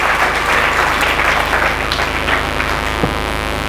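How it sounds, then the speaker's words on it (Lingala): Applause from a church congregation praising the Lord during a service, a dense, steady roar of many hands clapping throughout, loud and continuous with no talk over it. "Applaudissez encore très fort pour le Seigneur."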